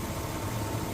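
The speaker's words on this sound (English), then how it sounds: "you can hear the engine running" A 2004 Chevrolet Avalanche 4x4 engine idles with a steady low rumble close by at night, even and continuous with a faint vibrating hum and no voices.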